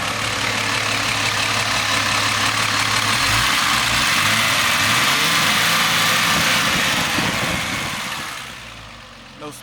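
A 1978 Mercedes-Benz 280SE, Euro model, with its 2.8-litre DOHC M110 inline six idling steadily and close by, a smooth even drone that fades slightly near the end.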